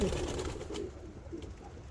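Ottoman Hünkari Boğma pigeons cooing close by, a low, throaty, continuous murmur of overlapping coos filling the whole short stretch with steady loudness.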